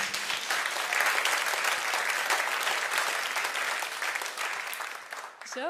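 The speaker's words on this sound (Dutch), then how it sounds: "Geef nog een groot applaus voor de deelnemers." A studio talk show audience gives the contestants a loud round of applause, dense and sustained for several seconds before it trails off near the end, with no voices over it.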